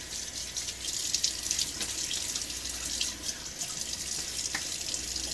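Cold water runs from a bathroom tap and splashes on a face during a wet shave, a steady broadband wash of running water with small splashes, close and fairly quiet, no voices.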